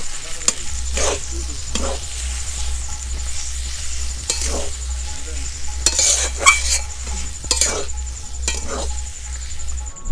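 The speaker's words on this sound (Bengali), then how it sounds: "লবণ দেব ও হলুদের গুঁড়ো, একটু ধনে পাতা কুচি, ভালো করে মিশিয়ে নেব" Salt, turmeric and chopped coriander being stirred into a frying egg-free omelette curry base in a pan, with repeated close scrapes of a spatula over a steady sizzle and a low hum.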